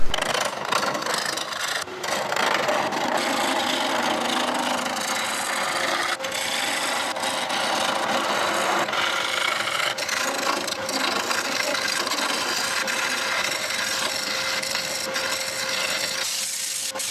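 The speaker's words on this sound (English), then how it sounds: "Same wood, just that I'm going to make a little dowel." Hand-shaping a small wooden dowel with a rasp or file, a steady close rubbing and scraping that runs continuously with no talking.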